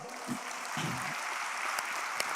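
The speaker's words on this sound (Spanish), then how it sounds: "Dele gloria a Dios con un aplauso." A church congregation applauds during a service, giving a steady, even patter of many hands at moderate distance, fairly soft, with a couple of sharper claps standing out.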